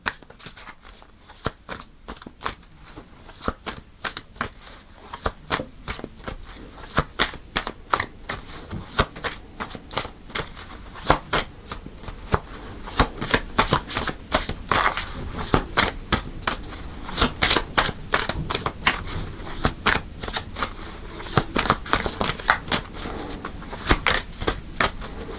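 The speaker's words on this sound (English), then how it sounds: "Okay, I'll shuffle a bit more." Tarot cards are shuffled over and over, rapid riffling clicks and flutters coming in dense bursts close up, with no voices.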